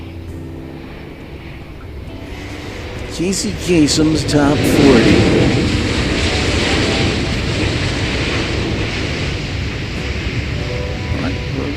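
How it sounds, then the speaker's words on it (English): An Airbus A321 takes off at Incheon Airport, heard from a penthouse. It is a broad, steady jet roar that swells and stays loud while someone talks over it with music in the background. "A321, which is about to lift off here"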